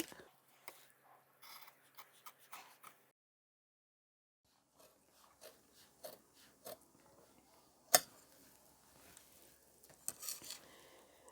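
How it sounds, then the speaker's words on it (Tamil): Scissors cut through the back piece of a large size-48 shirt fabric in sparse, close, quiet snips, with a silent pause partway through. "ஸோ இப்போ அப்படியே வந்து கட் பண்ணிடலாம் பேக்கை"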